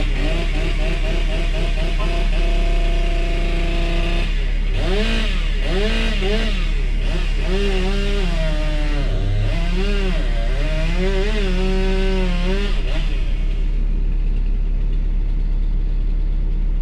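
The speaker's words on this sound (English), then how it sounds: "Let me get out and chainsaw that real quick." A chainsaw runs loud and close, its engine idling and then revving in repeated bursts as it bites through wood, before winding down.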